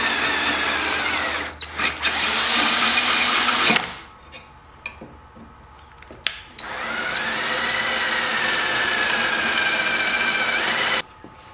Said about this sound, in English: I got the holes drilled underneath in the max mount